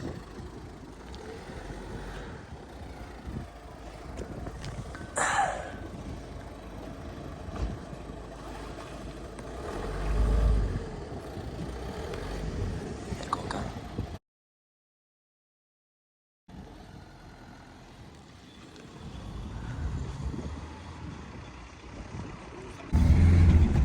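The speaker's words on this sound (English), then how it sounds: "Right, this is us going for our first drive." A Ford Focus MK3 sets off on its first drive, with a steady engine and road rumble from inside the car, a short silent break partway through, and a louder rumble near the end.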